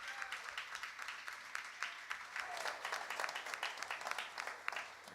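Applause from a live radio-show audience for a singer-guitarist, a steady spread of clapping that runs the whole stretch, fairly soft and moderately distant with no talk over it.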